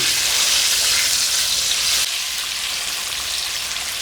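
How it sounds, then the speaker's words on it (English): Steady, dense sizzling and crackling of chicken wings deep frying in hot oil, close up and continuous, with no talking. "while we are deep frying these wings for the next 5 minutes"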